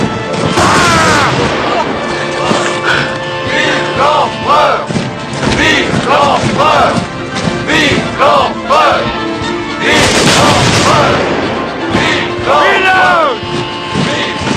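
Ranks of soldiers firing musket volleys, loud booming blasts and cracks repeating every few seconds, with shouted commands and voices over and between the shots.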